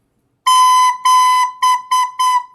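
Recorder notes played in a music lesson: five clean, steady tones in a rhythm of two longer notes then three shorter ones, close and clear with no talking.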